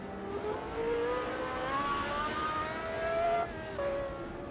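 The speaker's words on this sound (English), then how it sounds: "We still got engine sounds this time." Race car engine in the sim racing game Automobilista 2, a steady high whine that rises and shifts pitch through gear changes, continuous and moderately loud with no talk.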